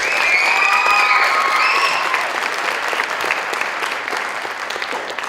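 A pageant audience claps for its contestants in a dense, sustained round of applause that fades only slightly over several seconds, with a few scattered whoops rising above it.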